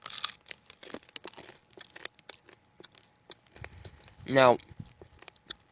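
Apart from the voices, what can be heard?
eating crunchy granola bars outdoors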